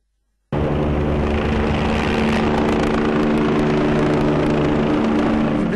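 A police helicopter over Campo Marzo in Vicenza during a drug raid starts abruptly and holds a loud, steady rotor and engine drone with a constant hum.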